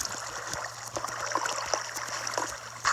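Flowing water in Minecraft gives off a soft, continuous trickling and babbling. It stays moderately quiet and steady throughout, with small clicks and bubbles over it.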